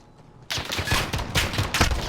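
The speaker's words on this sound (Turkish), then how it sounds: "Adama sıkıyorum sıkıyorum." Rapid automatic gunfire in the online shooter Call of Duty: Modern Warfare, bursting in loud and close after a brief quiet start and continuing in dense volleys.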